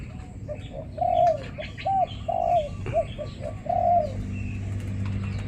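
A caged bird gives about four clear, close cooing calls in a row, separated by short pauses, over a low background hum.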